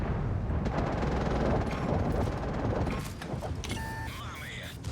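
A tank cannon fires in a tank battle video game, a loud blast followed by rumbling engine and battle noise with a brief electronic tone near the end, while a voice talks over it.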